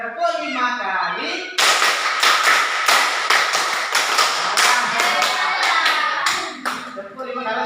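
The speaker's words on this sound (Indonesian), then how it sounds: "tepuk 5 kali" Several hands clap in a brisk series of sharp, close claps after a short voice, with children's voices mixed in, during a group clapping exercise led by a teacher.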